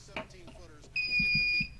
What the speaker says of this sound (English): Danny, hit your buzzer for me, would you?